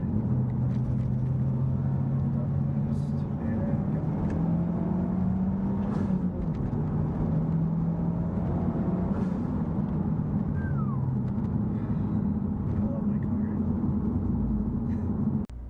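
Mitsubishi Evo X with a Cobb Accessport tune pulling hard in fourth gear, a loud, steady engine drone that climbs in pitch as it accelerates, heard from inside the car.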